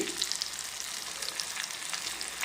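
Mango pickle being fried in hot oil with curry leaves, a steady close sizzle with fine crackling pops running throughout, no voices.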